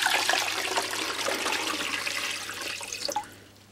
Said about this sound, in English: Better put some water in, I guess.